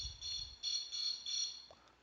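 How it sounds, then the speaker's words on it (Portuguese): An alarm beeps in repeated high, steady pulses, faint and at a distance, with a brief low rumble under the first pulse. "Desculpa aí o alarme aí."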